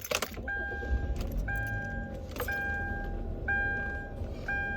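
Car keys jangle near the microphone as a 2012 Kia Optima is switched on during a steering column repair. A soft electronic chime then repeats at a steady rhythm over a low background hum.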